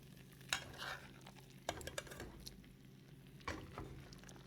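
A spoon stirs a pot of Jamaican food in a home kitchen, quiet scraping strokes with a few sharper clinks against the pot over a faint sizzle.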